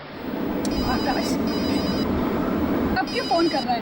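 A telephone rings in short bursts of electronic trilling, first near the start and again toward the end, over a steady background with voices talking.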